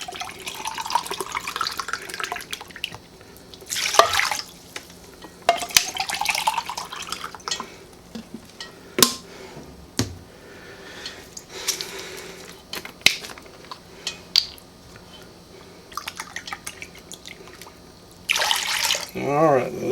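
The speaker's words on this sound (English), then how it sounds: "Now we'll put in our 2 cans of water." Two cans of water are poured into a Dutch oven for a chicken and rice dish, giving several splashing, gurgling bursts between quieter kitchen moments.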